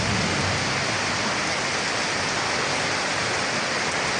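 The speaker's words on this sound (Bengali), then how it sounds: "হঠাৎ করে বৃষ্টি নেমে গেছে দুপুরবেলা" A heavy afternoon rainstorm under dark storm clouds pours down in a dense, steady, loud roar of rain with no pauses and no voices.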